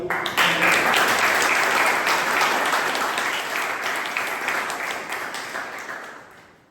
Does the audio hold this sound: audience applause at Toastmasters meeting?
yes